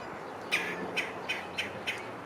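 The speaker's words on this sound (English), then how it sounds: "I save the grubs that I find in the Fatwood, and I give them to my bird Jake" A pet bird chirps five times in short, evenly spaced calls over quiet outdoor background noise, clear and fairly close, with no one speaking.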